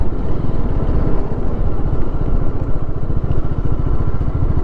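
A motorcycle rides on a slippery road in rain mode, its engine thrumming steadily with a fast, even pulse, close and loud throughout with no voices.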